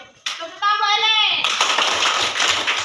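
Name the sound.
classroom clapping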